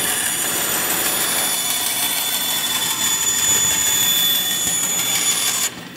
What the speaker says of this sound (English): right now Jordan is cutting out an 1/8 inch piece of aluminum for the bracket that he's drawn out here for one of the sides